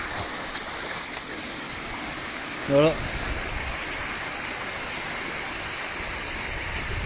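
Rainwater pours down as waterfalls over ground that normally has no stream, a steady broad rushing roar throughout, with a brief spoken word partway through.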